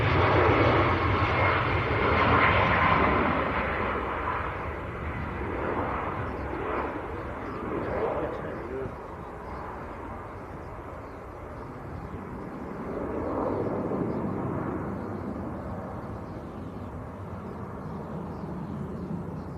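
A Ryanair airliner departs Leeds Bradford Airport bound for Faro, its jet engines roaring loud and steady at a distance, swelling and easing as it climbs, with no voices over it.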